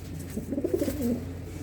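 Pigeons coo softly in a short, low burst, a gentle rolling call heard faintly against a quiet background.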